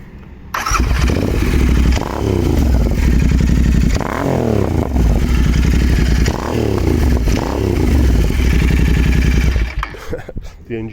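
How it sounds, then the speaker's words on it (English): An air- and oil-cooled motorcycle engine with megaphone exhausts revs hard and loud, with several sharp rising bursts that fall back between them, up close and with no voices over it. "It's a bit noisy because of these megas"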